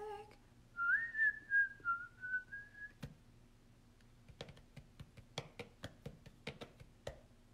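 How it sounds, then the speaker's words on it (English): Someone whistles a tune in a short wavering phrase, then a run of sharp, crisp clicks and taps follows in quick succession. The sound is quiet and close, with no talking. "Just whistle while you work."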